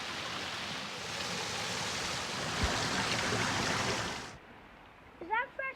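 Stream water at Pearly Ponds, a steady loud rushing wash that fills about four seconds and then cuts off abruptly, followed by a short burst of voices.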